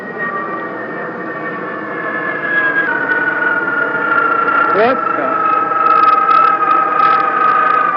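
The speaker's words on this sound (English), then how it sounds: "Lots of turbine sound." An unidentified flying object passes overhead with a loud, sustained turbine whine, its tones sliding gradually lower as it continues, while someone speaks briefly partway through.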